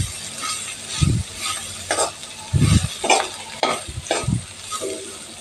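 Bitter gourd pieces fry in a pan with a soft continuous sizzle, while a spoon stirs and scrapes them in repeated irregular strokes, fairly close.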